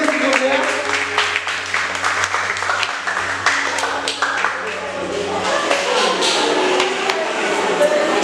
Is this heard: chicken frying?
no